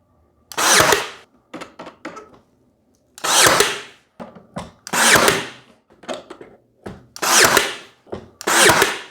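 An 18 gauge brad nailer drives 1.25 inch nails into wood trim on a simple box, giving a series of sharp pneumatic bursts, some longer hissing shots and some short clustered snaps, close and loud with quiet gaps between them.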